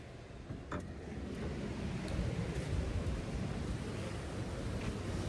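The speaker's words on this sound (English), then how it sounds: "Sound of the river outside is crazy." A river rushes steadily outside next to a parked bus, a continuous broad wash of flowing water with no voices.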